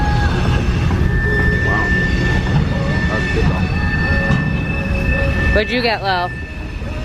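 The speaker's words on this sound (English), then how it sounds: "Holy moly, that's a loud train." A loud train passes close by, a heavy, steady rumble with a sustained metallic tone running throughout, while people chat over it and a voice rises near the end.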